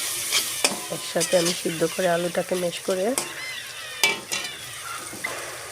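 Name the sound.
stirring chickpea curry in a wok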